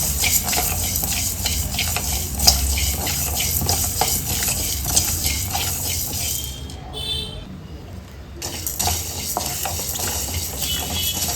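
Pepper chicken stir-fried in a pan, with continuous sizzling and frying plus scraping and stirring of a utensil against the pan. A brief near-silent gap comes late, then the frying resumes.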